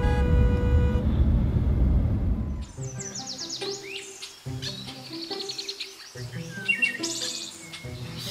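Birds chirp and sing in a natural outdoor setting during a fly fishing trip, with bright repeated calls and trills over a steady wash of water or wind, the song growing clearer and more varied after the first few seconds.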